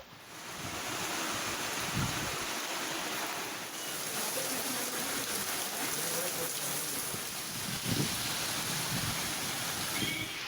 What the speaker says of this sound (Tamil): மதுரையில் தல்லாகுளம், சிம்மக்கல் உள்ளிட்ட பகுதிகளில் மழை பெய்தது.